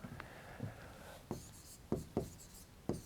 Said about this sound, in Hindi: तो अपन लिखते हैं